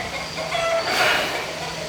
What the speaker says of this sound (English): my chickens are making a bunch of racket